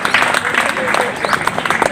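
Applause at a statue unveiling ceremony: a crowd claps continuously in a loud, dense patter of many hands, briefly rising in bursts.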